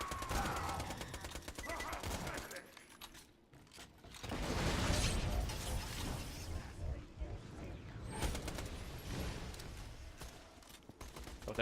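Submachine gun fire in Borderlands 2, dense bursts of rapid shots and heavy impacts that swell and fade across the stretch, with brief quieter gaps and faint voices beneath the combat.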